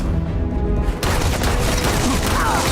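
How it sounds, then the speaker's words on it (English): Grenades blowing up in the space game Starfield, a sudden loud burst that floods into a dense, roaring wash of blasts and gunfire-like noise continuing steadily to the end. "Oh, grenades."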